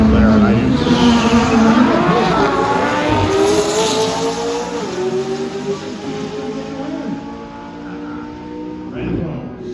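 A McLaren 570S and a Lamborghini Huracan, one with an IPE exhaust, roar past at a drag strip, loud engine notes rising and shifting through gears as they pass close, then fading, with a voice briefly heard.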